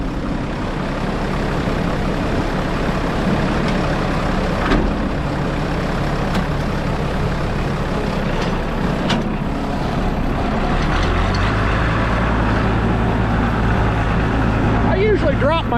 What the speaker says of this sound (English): try to talk over the noise of the engine